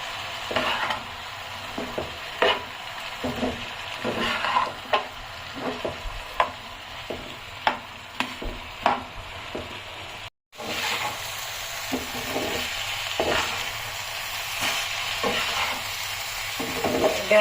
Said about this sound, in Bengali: ভটভটি আর আলু ভাজিটা হয়ে গেছে